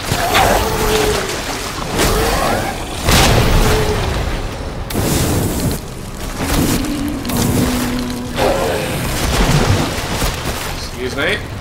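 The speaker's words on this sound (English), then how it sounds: "Oh, a grenade!" A grenade explodes in Resident Evil 2 amid repeated heavy booms and bursts, with loud, excited voices over the blasts.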